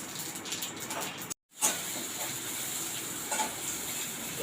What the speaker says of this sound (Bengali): গরম হয়ে গেছে, আমি তেল দিয়ে দিলাম, ফোড়ন দিয়ে দিলাম, তেজপাতাও দিয়ে দিলাম